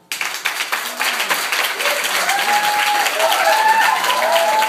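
A live audience at a poetry performance bursts into loud, sustained applause, with dense clapping and a few whoops and cheers rising over it.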